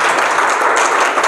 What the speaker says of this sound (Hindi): तालियों से बताइए, तालियों से।